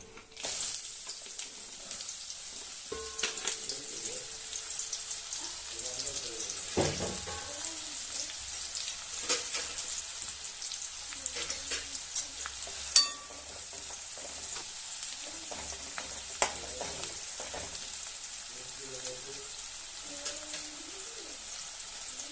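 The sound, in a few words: chopped onions frying in pan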